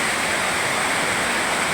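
Heavy rain pours down in Dasmariñas, Cavite, a steady, loud, dense hiss with no breaks and no voices.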